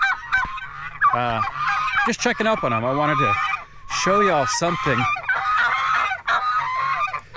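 Geese on a farm honk repeatedly in loud, nasal bursts close by, with someone talking between and over the calls.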